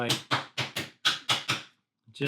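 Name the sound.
tapping book nook kit parts with the provided hammer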